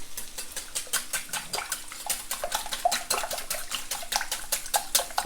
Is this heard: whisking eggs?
yes